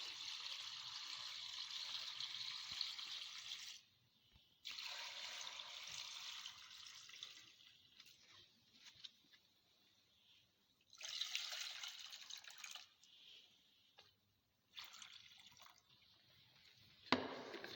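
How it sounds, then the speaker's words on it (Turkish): A liquid rooting mixture poured over rose cuttings comes through as close splashing, trickling bursts separated by quiet pauses, with a few faint drips. "Şimdi bu karışımı çeliklerimizin üstüne döküyoruz."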